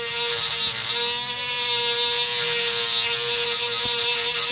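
A rotary grinder porting the intake manifold ports of a Chevy Cruze 1.4L, a steady high-pitched whine that holds loud and even throughout, with no talking.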